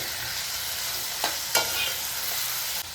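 Capsicum being stirred into mixed vegetables frying in a pan: a steady broadband sizzle with a few sharp scraping strokes of the spoon, close and fairly loud, with no voices.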